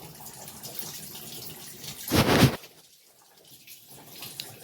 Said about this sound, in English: switch that to drain, and it's draining on its own